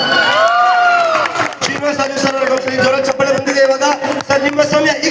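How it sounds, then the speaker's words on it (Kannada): A lively audience at a jamming session bursts into cheering, whoops and shouts with scattered clapping, loud and close, overlapping voices for several seconds. "ಓಕೆ, ಜೋರ ಚಪ್ಪಾಳೆ"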